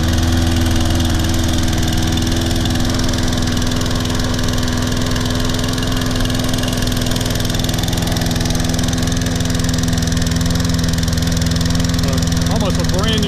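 Steady, close drone of a Toro Personal Pace Recycler 20332 self-propelled lawn mower engine running at an even pace, unbroken and loud for the whole stretch.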